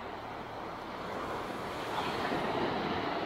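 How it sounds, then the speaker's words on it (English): Waves wash steadily onto a Lake Michigan beach in Wisconsin, a continuous near roar of surf that swells slightly louder toward the end, with wind noise and no talking. "when the waves crash"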